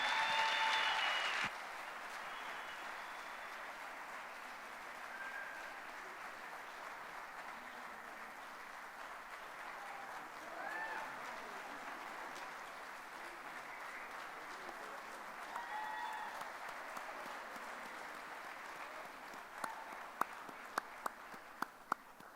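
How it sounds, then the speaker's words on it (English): Applause at the Queens University Athletics Hall of Fame ceremony 2024 for a newly inducted member, a faint, distant and steady wash of clapping, with a few louder individual claps near the end. "How about a round of applause?"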